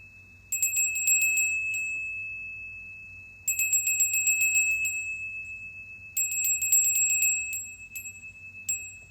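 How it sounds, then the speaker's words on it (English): A base chakra bell is rung in three separate bursts of rapid, bright tinkling strikes. Each burst rings out and fades before the next, close and clear, with no talk. "I have a base chakra bell"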